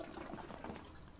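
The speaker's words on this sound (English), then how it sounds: "We can flush the toilet." A toilet flush in the video game Reflections: a steady, faint rush of swirling water lasting about a second, heard alone without talk.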